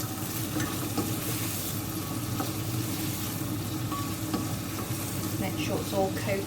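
Leeks sizzling in butter in a pan for potato and leek soup, a steady close frying hiss with occasional spoon scrapes and stirring clinks, mostly without talk.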